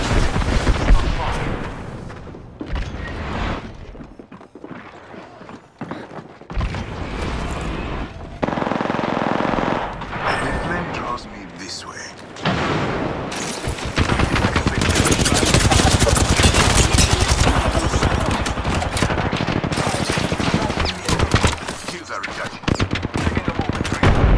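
Gunfire in the video game Apex Legends, loud bursts of automatic weapon fire with sharp single shots, broken by short lulls then a long sustained barrage, with a voice talking at times.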